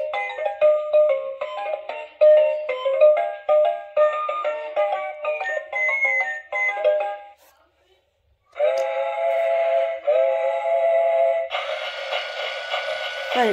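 A small battery toy train runs with a cheerful electronic tune and whistle-like tones, pausing briefly before the chiming resumes, close by.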